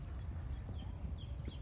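Alvira, a mare walking with her young foal on rain-dampened farm ground, sets down a few soft, irregular hoof clops close by against quiet background noise.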